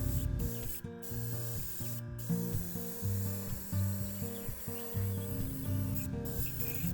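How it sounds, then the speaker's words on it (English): An airbrush sprays chartreuse green paint onto a carved largemouth bass swimbait lure, giving a close, steady hiss in short repeated bursts over a low humming compressor drone. "spraying it on the top of the bait as well as some portions of the face"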